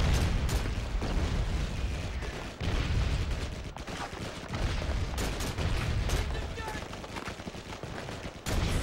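Explosions and gunfire in a Call of Duty 2 Big Red 1 battle, a dense, continuous barrage of booms and shots with sharp bursts throughout, loud and busy without pause.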